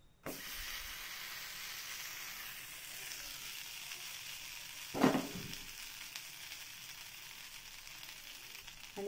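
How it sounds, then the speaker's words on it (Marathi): Vegetable ragi thalipeeth flatbread sizzles on a hot iron tava with a steady, quiet frying hiss. A brief louder crackling burst rises midway. "चला आता आपला तवा छान गरम झाला. आता आपण हे धपाटं ह्याच्यामध्ये टाकून घेऊया."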